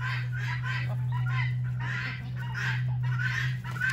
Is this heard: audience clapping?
no